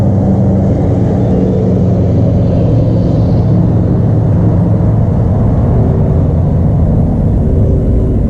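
Road traffic passes near a boat lake launch, a loud continuous low rumble of car engines that holds steady throughout without a break and without any talk.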